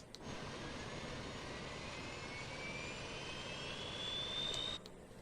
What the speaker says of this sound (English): we can see the APU temperatures and RPM coming up